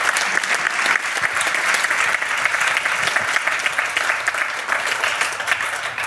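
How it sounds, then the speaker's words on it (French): Dense, even audience applause fills a pitch event after a project presentation, loud and sustained throughout with a faint hum of crowd voices underneath. "Et on va encore l'applaudir évidemment"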